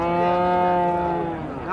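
A Holstein Friesian dairy cow at a cattle sale gives one long, close, loud moo that holds steady and then bends upward at the end.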